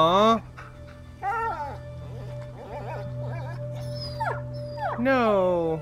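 In the A Plague Tale video game, a dying dog whimpers and lets out drawn-out, wavering howls and yelps close by, mixed with a character's voice and a low steady ambient drone.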